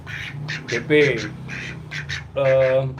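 Pet ducks quack near their pen in a few short, harsh bursts over a steady low hum, with people talking nearby between and around the calls.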